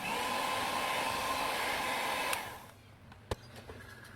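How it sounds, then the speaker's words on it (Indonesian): An electric mixer whirs steadily at its lowest speed, blending chocolate steamed cake batter, then switches off, followed by a faint click and quiet. "Lanjut ini di mixer menggunakan speed paling rendah sampai tercampur merata."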